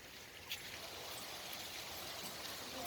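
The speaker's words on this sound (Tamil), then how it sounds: "மழை பெஞ்சிட்டு இருக்கு" Rain falls as a steady, even hiss that fills the background throughout, soft and continuous with no voices.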